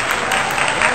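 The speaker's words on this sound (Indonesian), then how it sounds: "Tepuk tangan." A small group of people claps hands together in a short, steady burst of applause, close and fairly loud.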